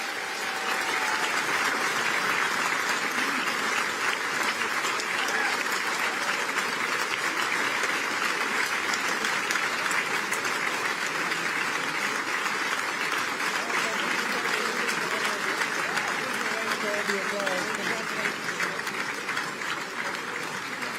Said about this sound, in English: let you enjoy the applause